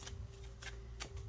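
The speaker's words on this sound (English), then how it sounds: "I'm curious what the lesson will be every time I shuffle the deck" A deck of playing cards being shuffled, quick riffling bursts in a few separate rounds over a low steady hum, fairly close and moderately quiet, with no speech.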